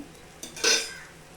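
Onions tipped into hot oil in a pan while making dosa from idli batter: a short clatter of utensil on pan followed by a brief burst of sizzling that fades, with no talking.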